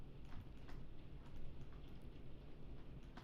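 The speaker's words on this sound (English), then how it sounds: "Can you hear the rain?" Steady rain patters continuously, a dense, even wash of drops with faint ticking hits, fairly close and unbroken throughout, with no talk over it.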